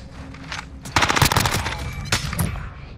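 Sniper fire in an online shooter video game, heard as repeated sharp gunshot cracks in quick bursts that stay loud and close for about three seconds.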